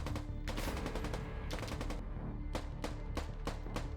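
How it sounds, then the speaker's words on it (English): Rapid bursts of automatic gunfire from infantry weapons, several sharp shot clusters in quick succession, loud and close, with no talk. "Burst fire is when you shoot a burst of about 3 bullets,"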